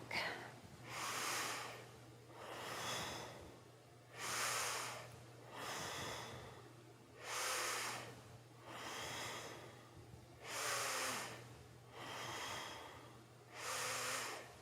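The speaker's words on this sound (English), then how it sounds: "Inhaling forward, exhaling back." Slow, rhythmic breaths during a kundalini third-chakra practice, about seven long, steady inhale-exhale cycles drawn through the nose, close and clear over a low steady hum, with no talking.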